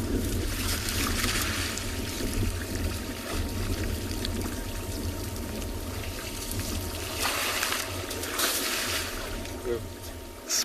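An elephant on a South African morning safari sprays muddy water from its trunk, a rushing, splashing spatter that rises and falls in bursts over several seconds, moderately distant, with a person talking quietly over it.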